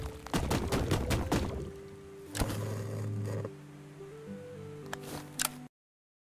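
Gunfire in the PC game Black Skylands: a rapid burst of sharp shots at the start, then a heavier blast with a sustained droning tone, scattered single shots and a final pair of cracks before abrupt silence.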